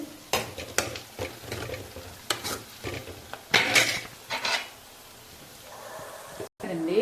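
Spices crackle and sizzle in hot oil, broken up by short bursts of stirring and clinking utensils, with talk heard in places.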